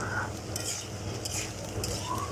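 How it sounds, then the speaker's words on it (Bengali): Potatoes being sautéed in a pan on a clay stove in a village kitchen, soft sizzling with stirring scrapes and light utensil clinks under a low rumbling fire, close by. "এবার আমি কিছু আলু দিয়ে দিলাম। আলুটা দিয়ে ভালো করে কষে নিতে হবে।"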